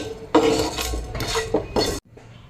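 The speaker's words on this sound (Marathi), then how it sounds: "आपल्याला असे खलबत्त्यामध्ये थोडेसे मॅश करून घ्यायचे" A pestle works roasted spices in a mortar for samosa filling, giving three scraping, grinding strokes with gritty knocks, close and loud, then a brief quieter pause at the end; no voices.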